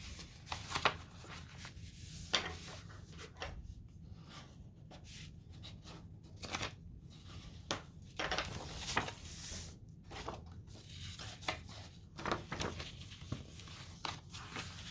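A bone folder creases scored paper on a Stampin' Up gift bag with a greeting card holder, making soft scraping and rubbing strokes with irregular taps and shuffles, close by and fairly quiet, with no talking.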